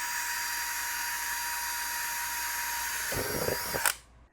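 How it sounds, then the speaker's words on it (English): A steady high-pitched power drill whines continuously close by while drilling a hole in acrylic sheet, then briefly bites harder with a grinding rasp before spinning down and stopping. "we're just going to give it some light pressure and drill 1 hole in the middle"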